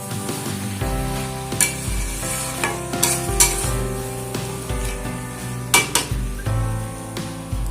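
Spinach cooks in a pan with peanuts, a loud close sizzle punctuated by repeated scraping and clanking strokes of a spatula stirring it against the metal, with no voices.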